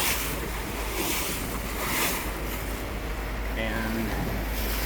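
Small river waves lap near a boat on a stretch of river between Lewiston, Idaho and Astoria, Oregon, a continuous wash blended with wind buffeting the microphone.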